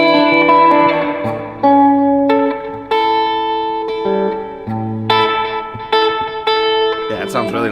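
Electric guitar through a REVV D25 amplifier with spring reverb: a run of clean sustained notes and chords, close and full, each ringing out with a reverberant tail before the next one is struck.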